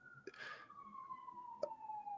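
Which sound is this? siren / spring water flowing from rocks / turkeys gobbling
siren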